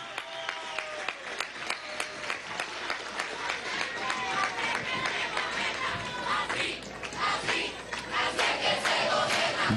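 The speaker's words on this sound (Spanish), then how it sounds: "Vamos a darle un aplauso a este muchacho." Crowd at an outdoor youth march rally at Miraflores palace claps and cheers steadily for several seconds, dense hand claps rising and falling with shouts mixed in.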